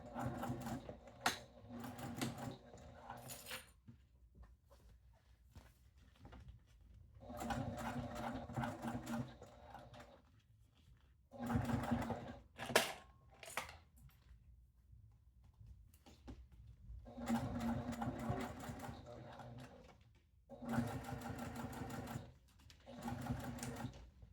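A sewing machine stitches a fabric pouch in several bursts of steady rapid whirring, with pauses between runs as the fabric is adjusted.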